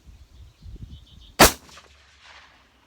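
A CVA Hunter rifle shot strikes a 3/8 inch steel target outdoors: one loud, sharp crack with a metallic ring that decays over a second, preceded by low faint rustling.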